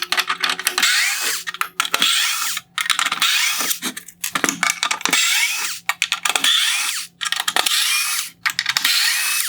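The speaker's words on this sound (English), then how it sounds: "I will begin by removing the T15 Torx screws holding on this black bezel." Small power driver spinning T15 Torx screws out of a black plastic headlight bezel on a 2014-2015 Chevrolet Camaro Bi-Xenon headlight, in a series of close whirring bursts separated by brief pauses.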